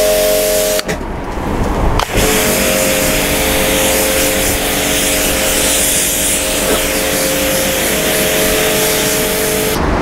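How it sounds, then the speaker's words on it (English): A pressure washer sprays a car from the roof downward before a snow foam is applied. The jet gives a loud, steady hiss with a motor hum beneath it, broken briefly near the start. "So what I'm going to do now is power wash the vehicle from the roof and work my way down."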